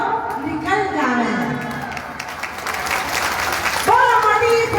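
Devotees at a Rani Sati swing festival clap, a crowd of hands rising under sung and spoken voices that carry over the top, loud and close.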